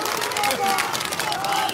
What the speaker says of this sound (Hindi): जरा तालियां बजा के राजू विष्ट का भी स्वागत करें